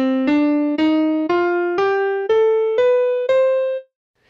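A piano-like instrument plays an ascending C melodic minor scale, eight evenly spaced notes rising one after another, clear and alone.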